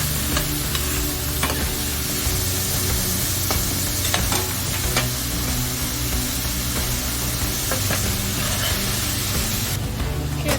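Vegetables for shrimp lo mein frying in a hot pan, a steady loud sizzle with intermittent stirring scrapes and clicks throughout, and a brief burst of harsher hiss near the end.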